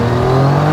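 Donkervoort P24 RS lightweight supercar accelerating hard, a loud, close engine roar with strong steady harmonics held across a brief moment.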